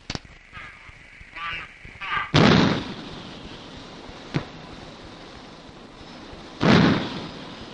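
Artillery guns on a firing line let off two heavy booming shots several seconds apart, with a sharp crack between them, over outdoor background noise, with radio voices heard at the start.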